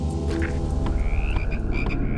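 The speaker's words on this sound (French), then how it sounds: "Ouais, il y a une grenouille là." Frog croaking inside the horror game HOUSE, a steady run of throaty croaks close by over a low droning background, with no voices.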